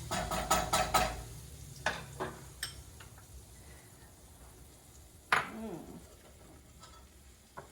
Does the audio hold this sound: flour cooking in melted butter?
yes